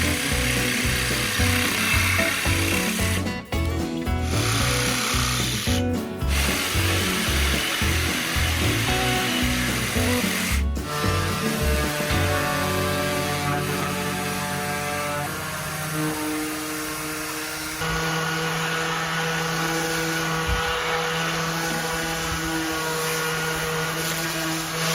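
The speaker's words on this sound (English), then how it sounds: "After cutting them with a jigsaw, I smoothed everything with 80 grit sandpaper." Jigsaw cutting wood for a small kids' picnic table, loud and close with rhythmic buzzing, then sanding with 80 grit sandpaper, a steady grinding hum continuing to the end.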